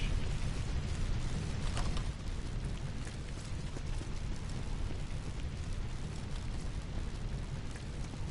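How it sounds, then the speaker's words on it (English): Slag rocket launcher blasts in Borderlands 2, booming explosions and crackling debris that roll on steadily, loud and continuous, with no voices. "A slag rocket launcher that does. That's a lot of damage."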